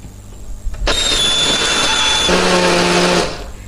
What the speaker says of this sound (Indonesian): Hari ini aku pakai blender aja.